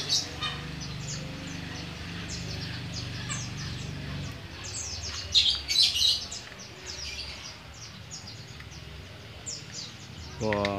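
Wild birds, a green leafbird (cucak ijo) and white-eye birds, call with bright chirps and short bursts of song over a low murmur of outdoor background noise, with a louder cluster of calls midway.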